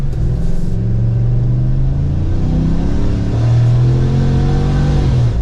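A Procharged 2024 Chevrolet Silverado 1500 ZR2 pickup accelerating under mild throttle, its supercharged engine giving a loud, close, rising drone with clear revving sweeps and a deep exhaust rumble throughout.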